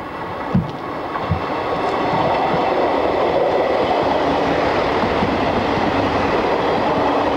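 A British Rail freight train of empty steel wagons passes. A couple of sharp clacks give way to a loud, steady rolling rumble that builds and holds to the end.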